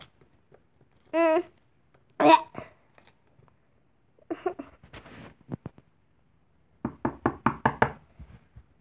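Knocking on a door comes in two short bursts of rapid, sharp raps, with squeaky cartoonish vocal sounds between them in an otherwise quiet room.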